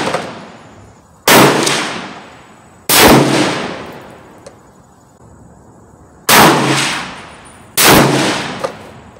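Four loud rifle shots fired at targets on a range crack out one at a time, each followed by a long booming echo that decays before the next, with no talking between them.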